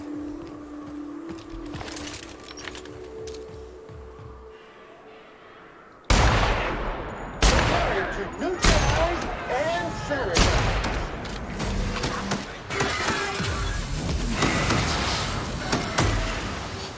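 Energy weapon fire in The Outer Worlds bursts out in a rapid string of loud, close shots and impacts after a quieter opening stretch of game ambience. A voice talks faintly underneath the gunfire.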